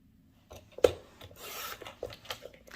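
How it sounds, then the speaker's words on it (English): Short rasping cuts as scissors or a trimmer slices a quarter inch off scrapbook paper, two or three brief scraping strokes close by, with no talking. "I'm just going to cut 1/4 of an inch off, one side there, and one side here."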